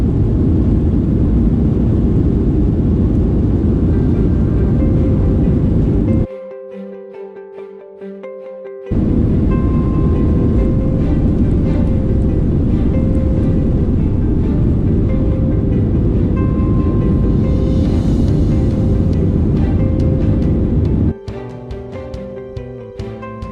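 Virgin Australia Boeing 737 taxiing to runway 34 right at Sydney and taking off, a steady loud cabin rumble of engines and airframe, with a brief quiet dip partway through, and no talking.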